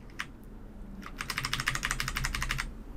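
Rapid bursts of keystrokes on a computer keyboard as a command is entered in Windows 11, a short tap followed by a dense run of close, crisp clicks with no voices.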